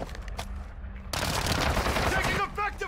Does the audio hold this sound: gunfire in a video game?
yes